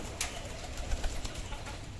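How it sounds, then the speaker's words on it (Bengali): Pigeons coo softly and repeatedly nearby, low throaty calls over a light background hiss with a few brief rustles. "খুব ভয় পায় এই কবুতরগুলো"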